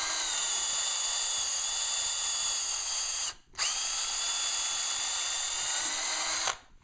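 A power drill with an extra long bit bores a handle hole into homemade camping gear, a loud steady high whine that stops briefly mid-way, restarts and runs on before cutting off.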